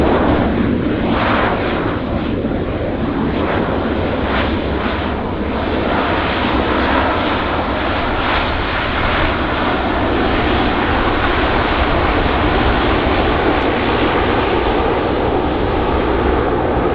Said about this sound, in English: There's the Lynx Air departing, guys.